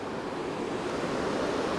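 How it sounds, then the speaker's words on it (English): A waterfall cut deep into the rocks beneath Gunners Pool Bridge in Castle Eden Dene makes a steady, close rushing roar with no letup and no voices. "there's an amazing sight, a waterfall cut deeply into the rocks underneath"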